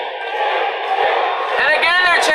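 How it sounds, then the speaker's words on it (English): Wrestling crowd at Caesars Palace in Las Vegas chanting in unison for Sting, a loud rhythmic mass of voices that swells toward the end. "They're chanting for Sting."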